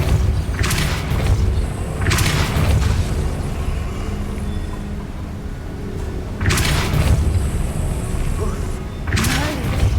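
A Depulso force spell cast in Hogwarts Legacy, heavy booming thuds landing in bursts with a low rumble between them, loud and close.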